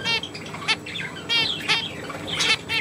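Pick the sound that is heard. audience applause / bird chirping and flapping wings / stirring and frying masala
bird chirping and flapping wings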